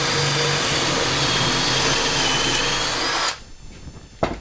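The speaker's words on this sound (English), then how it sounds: "we just drilled our hole" A power drill bores a pocket hole through wood with a Kreg jig, a loud, steady high whine lasting about three seconds, then cutting off abruptly, followed by a quiet pause and a small clunk.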